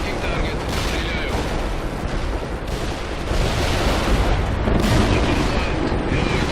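An Mi-24 heavy attack helicopter fires weapons in World in Conflict, a dense continuous roar of rapid cannon and rocket fire with booming impacts, loud and close throughout, with radio chatter mixed in.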